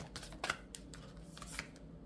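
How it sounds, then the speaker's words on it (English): Three tarot cards being shuffled by hand, heard as soft, scattered papery clicks and brushes that come quietly and close, with no voices. "I'm about to shuffle these three cards"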